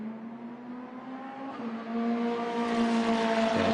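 A McLaren GT race car at night during the 12 Horas Gulf 2021 endurance race approaches the turn 1 braking area, its engine drone building steadily and growing louder as it nears.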